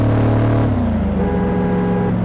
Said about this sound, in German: Beschleunigungstest fällt wie immer kacke aus. Ja, für ein AMG